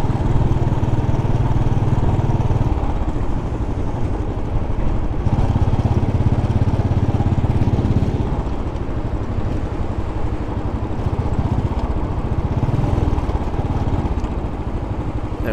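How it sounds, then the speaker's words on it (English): A Royal Enfield motorcycle cruises along the Henry Hudson Parkway in New York City, its engine droning loud and steady with a low rumble, mixed with road and wind noise throughout. "I'm cruising along here on the Henry Hudson Parkway, here on the Royal Enfield, with plenty of power to spare."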